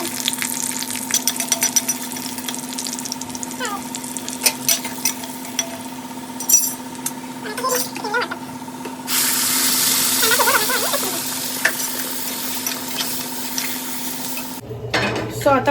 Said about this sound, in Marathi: सो आता फिश फ्राय करायला घेते मी.